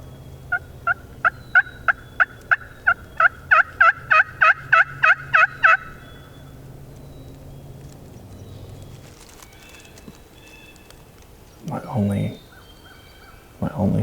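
Wild turkey longbeards gobble from the roost in a rapid series of about fifteen loud, rattling calls spaced evenly over several seconds, followed by quieter ambient sounds and a couple of distant bursts.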